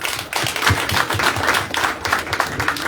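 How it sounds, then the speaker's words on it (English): Applause from a crowd of delegates at a political leaders' meeting in Soroti city, a steady mid-loud patter of clapping with rhythmic low thumps running through the full three seconds. "Let's have a loud applause for Doctor."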